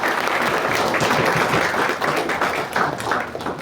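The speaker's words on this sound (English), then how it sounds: "let's give a big round of applause to Jacob." A crowd applauds at a business talk event honoring Jacob Ninan, director of Herbal Isolates Ltd.; dense, steady clapping from many hands fills the room continuously and loudly.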